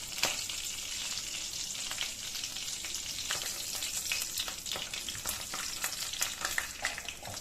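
Cinnamon, cardamom and crushed cumin splutter and crackle steadily in hot oil, a dense continuous sizzle dotted with sharp pops throughout, close and alone without talk.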